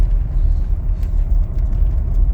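A car driving along a road through Clumber Park, giving a steady low engine and road rumble that stays close and continuous throughout, with no talk.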